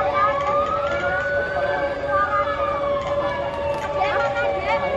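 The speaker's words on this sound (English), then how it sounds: "the sirens are going off" Emergency vehicle sirens wail through a street, one steady tone overlapping rising and falling sweeps, loud and close over constant traffic and crowd noise during a celebration in Indonesia.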